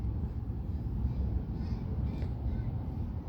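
Seagulls call over a grocery store parking lot, a few faint, distant cries above a steady low outdoor rumble.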